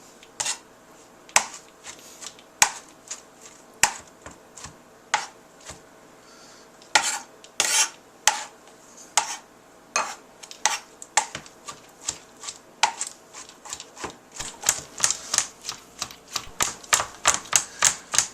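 A knife chops sharply on a cutting board, starting with spaced strokes and speeding into a rapid, steady rhythm.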